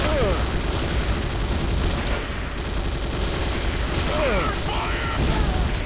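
Gunfire in the shooter C&C Renegade comes as continuous rattling bursts under a loud, dense battle din, with mechanical clanks and a few whooshing swoops.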